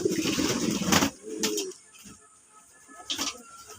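Pigeons bathe and shake water from their feathers, making a close rustling flutter of wings and splashing. A few soft coos and brief flaps follow before things go quieter.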